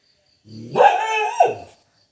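A single dog gives one drawn-out, howling bark, clear and fairly close, in an otherwise quiet house setting.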